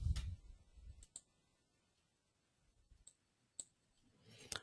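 Computer mouse clicking a preview button in software: a few sharp, quiet clicks spaced apart over near-silence, preceded by a soft low thump.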